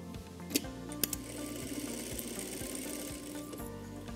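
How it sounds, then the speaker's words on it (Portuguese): A sewing machine runs a safety seam with a steady motor hum and fast, even needle ticks, plus a few sharper clicks near the start. It is moderately quiet and has no speech over it. "Vou passar uma costura de segurança aqui."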